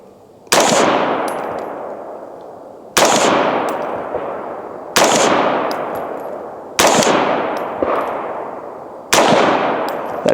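Five rifle shots from a US Palm Storm rifle ring out at an outdoor range, loud and sharp, spaced about two seconds apart, each followed by a decaying echo.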